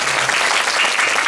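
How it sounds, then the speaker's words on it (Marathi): Dense, steady applause from an audience at a bhajan program during an Akhand Harinam Saptah, a continuous loud wash of many hands clapping together with no gaps and no talk over it. "एकदा जोरदार टाळी वाजा तुमच्यासाठी"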